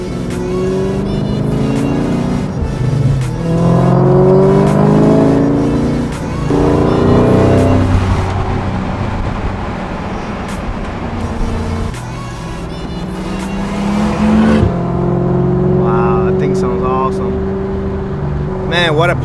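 A Mark IV Toyota Supra with its 2JZ engine idles and revs at a car meet, a steady engine drone with rising and falling rev sweeps running under continuous talk from a nearby speaker.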